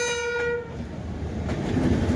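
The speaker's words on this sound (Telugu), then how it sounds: "ఈ లుక్ని అంతా చెడగొట్టడానికి ఈ ట్రైన్ అయితే వచ్చింది చూడండి" A train rolls past on a railway bridge over the Krishna river near Vijayawada: a loud horn blast opens, then a steady rumbling roar of wagons continues close by.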